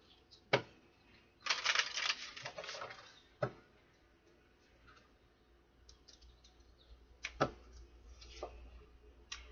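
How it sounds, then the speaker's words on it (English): Tarot cards are shuffled in short bursts of riffling and tapping, with a few sharp card snaps between quieter stretches, heard close and alone without talk. "One more shuffle."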